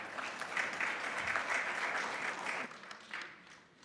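Audience clapping at an education conference keynote session, a fairly faint, steady patter of many hands that thins out toward the end, with no talk over it.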